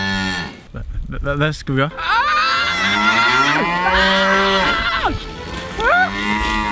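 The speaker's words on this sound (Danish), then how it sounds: "er det ikke en ko?" A cow lets out several loud, drawn-out moos close by, their pitch sliding up and down over a few seconds, with a brief voice underneath.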